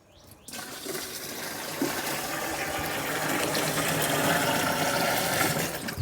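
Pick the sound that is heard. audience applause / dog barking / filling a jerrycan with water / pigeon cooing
filling a jerrycan with water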